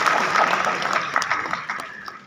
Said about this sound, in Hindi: हर्ष के लिए जोर से ताली बजाओ